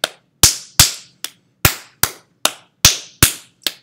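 Sharp, close slaps of hands patting a ball of clay into shape for a hanging tile slab, about ten crisp smacks at an irregular quick rhythm, each ringing briefly before the next.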